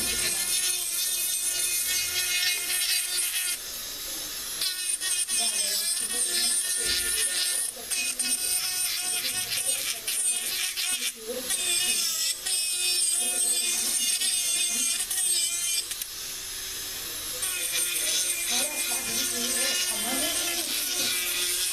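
A high-pitched rotary dental trimming tool grinds away at a dental impression tray, a continuous buzzing whine with brief dips as it eases off and bites again, close and steady throughout.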